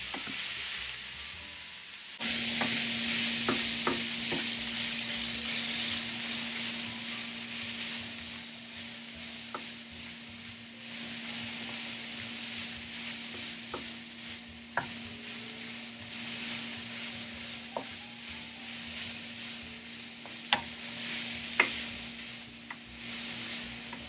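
Liver sizzles steadily in a hot pan for Jaghool Baghool, with a loud frying hiss that starts suddenly and holds throughout, broken by scattered clicks and scrapes of stirring.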